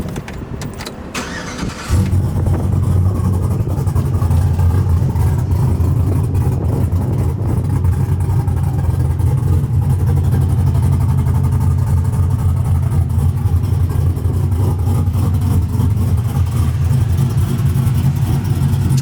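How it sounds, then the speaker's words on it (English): A cammed truck engine with a cam swapped in from a step side, running loud and close with a choppy, lopey idle and steady rumble after a short start-up at the beginning, continuing unbroken for the rest of the clip. "Truck is now cammed."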